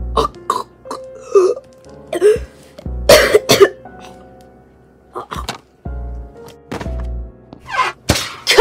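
Several harsh, abrupt coughs in short bursts with pauses between, loud and close, with a low hum in the background.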